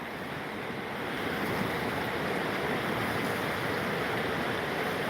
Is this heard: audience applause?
no